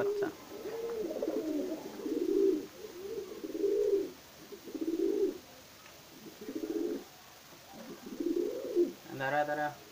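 A pigeon chick, the young of a white Huma pigeon, calls in a steady run of soft, low cooing phrases, about six rounded pulses close by, with a brighter, higher note at the very end.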